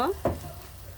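Bay leaves and cinnamon drop into a hot pan of frying chana dal barfi mixture, giving a brief sharp sizzle burst followed by a steady low frying hiss.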